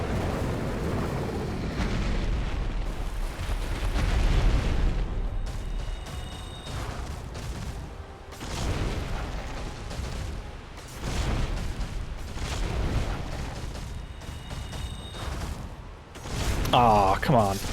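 Kalameet's fire breath attack in Dark Souls, a long roaring, rumbling blast with explosive booms surging over many seconds, loud and dense, with a voice talking over parts of it.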